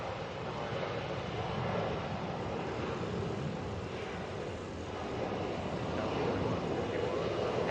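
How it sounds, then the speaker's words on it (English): An Airbus A321 airliner departs Atlanta airport, its engines producing a broad, steady jet roar that swells slightly toward the end, heard from a distance without any talking over it. "A321 going to Denver here."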